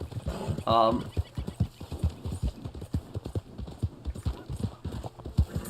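Steady clip-clop of horse hooves in a quick rhythm in Red Dead Online, with a brief whinny near the start and game-style ambience behind.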